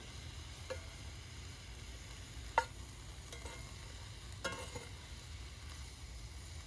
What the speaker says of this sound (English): Oh yeah, sizzling good.